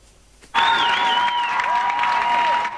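Fans greeting the Erisioni ensemble at Tbilisi International Airport after its return from Moscow break into an ovation: sustained crowd clapping starts abruptly, with raised voices and tonal calls riding over it.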